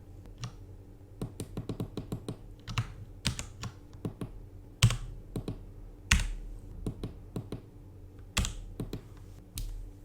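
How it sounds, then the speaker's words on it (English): Keystrokes on a computer keyboard used to send characters to a UART circuit, irregular sharp clicks in short bursts with a few louder taps, close and alone. "if I go back to my keyboard, press A, send that,"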